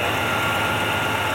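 The engine of a 1967 Pontiac ambulance idles close up in a brief, steady, dense rumble, and a hissing exhaust leak runs through the sound.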